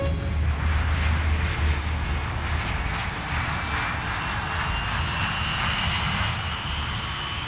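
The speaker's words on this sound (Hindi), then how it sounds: "होटल ब्रावो 2201, उड़ान के लिए रास्ता साफ है" A fixed-wing aircraft takes off, its engine roaring loud and steady throughout with a broad, continuous rush that shifts slightly in pitch as it accelerates.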